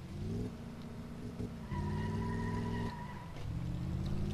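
An old car's engine runs in the Car Mechanic Simulator 2015 video game after a renovation, giving a steady droning hum that shifts pitch in several distinct steps as the revs rise and fall.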